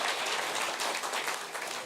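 Applause breaks out after a correct answer on a rock music quiz show, a steady wash of many hands clapping at once, loud and continuous for the full stretch with no voices over it.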